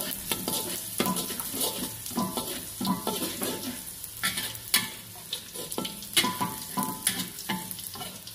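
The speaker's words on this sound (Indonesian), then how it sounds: "Nah ini kita oseng dulu." Misoa noodles stir-fry in a pan, a steady sizzle broken by repeated scraping and clinking of a utensil against the metal, close up with no talk.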